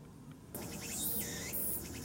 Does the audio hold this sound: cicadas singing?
yes